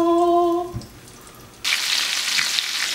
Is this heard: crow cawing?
no